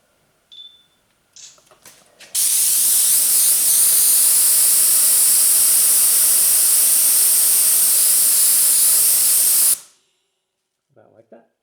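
A spray gun sprays PPG ECP15 2K primer surfacer onto a 1977 Camaro Z28 in one long, loud, steady hiss lasting about seven seconds. Faint clicks and handling noises come just before and after.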